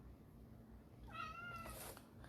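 A kitten begging for food meows in a short series of high, insistent cries, close by, over a low background hum.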